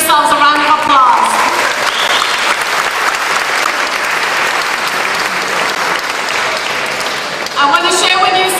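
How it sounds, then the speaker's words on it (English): Steady applause from a charity fundraiser audience fills the room, dense and sustained throughout, with a few voices audible at the start and end. "So just give yourselves a round of applause."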